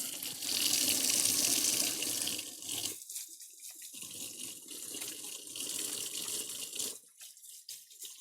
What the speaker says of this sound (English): I'm going to wash my hands and then get these in the oven